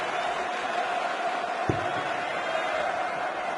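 A darts match crowd at the PDC Players Championship Finals, a diffuse sustained murmur of booing and crowd noise with one brief thud partway through.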